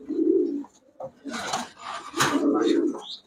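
Female racing pigeons at a shop coo close by in two low burbling bursts, one at the start and one near the end, with someone talking between them.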